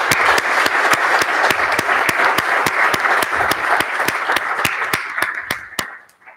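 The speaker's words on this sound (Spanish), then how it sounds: "Y pediría además un aplauso muy fuerte," Loud, dense audience applause at a book presentation, sharp individual claps standing out above a steady roar of clapping that keeps going, then thins and fades out in the last second.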